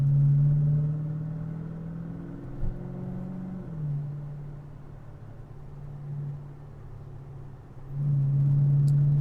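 A car climbing Big Cottonwood Canyon in Utah, heard through an open sunroof: a steady low engine drone with a couple of shifts in pitch as it changes gear, loud at the start and end.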